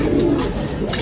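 Pigeon cooing in a loft where young pigeons are kept, a steady low murmur of soft coos filling the short moment, close by with general rustle around it.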